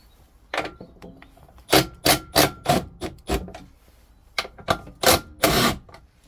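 Screws being loosened with a hand tool on the housing of a Philips SRS420 Viking Vision 150W high-pressure sodium street light: a series of short, close scraping and clicking bursts in two clusters, with no talk.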